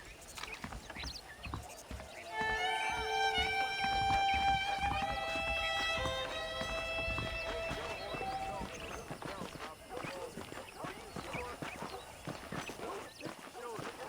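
Horse hooves clopping in the Western video game Red Dead Redemption, with a steady rhythmic beat under a swelling orchestral score and a voice talking.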